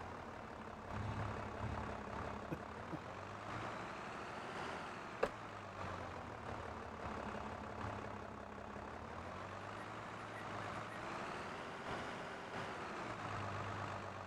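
A tractor engine in the farming simulation game Farming Simulator 22 drones steadily at low pitch, with a faint rise and fall in revs and one sharp click midway. No voices are heard.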